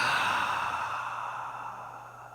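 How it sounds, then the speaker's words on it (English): A single long, deep exhale from a person doing a breathing exercise in a hip mobility workout, a close, breathy sigh that slowly fades out. "Take in as much air as you can. Hold at the top. Exhale."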